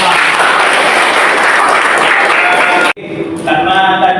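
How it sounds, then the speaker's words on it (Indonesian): An audience applauds at a university session, giving about three seconds of loud, dense clapping that cuts off sharply before a speaking voice carries on. "Kasih tepuk tangan lah dan semua."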